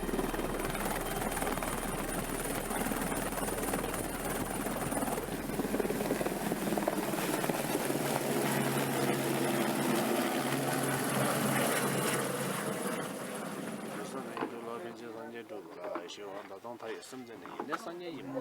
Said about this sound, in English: helicopter evacuation to lower elevation may be your only option.